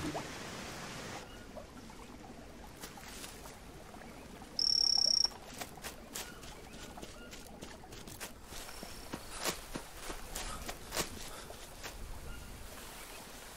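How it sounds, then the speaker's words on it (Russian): Cricket chirping in the Amazon rainforest of the video game Green Hell: Spirits of Amazonia, a steady faint insect trill set among jungle ambience, with scattered footsteps and other creature sounds. "Это у тебя там сверчок?"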